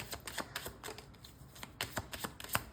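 Crisp, rapid riffles and soft slaps of tarot cards being shuffled in short bursts, close up, with no voices.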